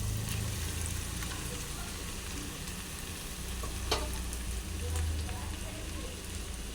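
Leftover cooked rice sizzles in a hot pan, a soft, steady crackling fry with faint scattered pops throughout, quiet and uninterrupted without speech.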